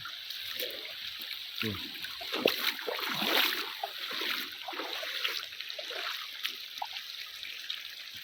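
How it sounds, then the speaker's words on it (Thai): Flash-flood water rushing through a rocky forest stream at Huai Nam Duk in Phetchabun, Thailand, a continuous splashing, gurgling flow with scattered sharper splashes and faint background sounds. "น้ำนี่น้ำไหลแรงมากนะตรงเนี้ยเนี่ย"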